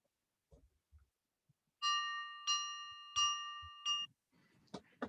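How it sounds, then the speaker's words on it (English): Four quick bell rings mark the start of a brain teaser segment on a healthcare talk show, each a bright metallic strike with a short ring-out, evenly spaced and alone after a few soft bumps. "Hannah Ho, for the brain teaser, is that bell again"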